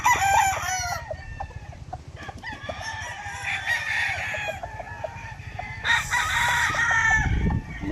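Rain-soaked gamefowl rooster on a game farm crows loudly and close several times on a rainy day, with clucks and other fowl calling around it.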